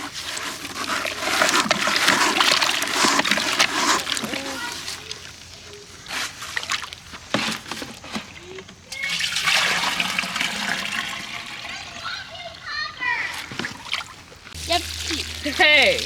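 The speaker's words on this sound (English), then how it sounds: "Let's stir up this compost tea before we feed our cucumber plants." Compost tea being stirred in a container of water in a vegetable garden before feeding cucumber plants, with repeated loud sloshing and splashing swirls near by, broken by brief pauses while voices talk.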